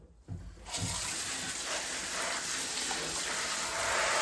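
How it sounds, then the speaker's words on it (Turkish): A bathroom tap turned on for cleaning, with a short handling noise followed by a steady, full rush of running water that continues evenly to the end. "Şu anda suyu açıyorum."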